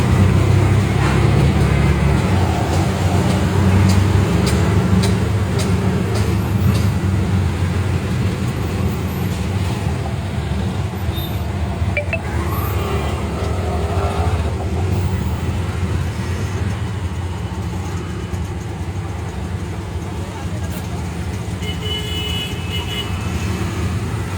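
Steady road traffic rumbles around a moving auto rickshaw, a constant engine and tyre roar with passing vehicles that stays fairly loud and even throughout.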